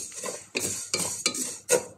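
Vermicelli is being stirred and toasted in a pan for balaleet, heard as about four close, scraping strokes with light clinks of a utensil against the pan, alone and fairly quiet.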